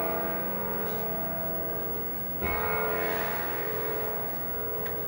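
Several clocks chime and ring together in a workshop, a dense sustained layer of bell-like tones with a stronger struck chime near the middle, fairly loud and continuous with no talking.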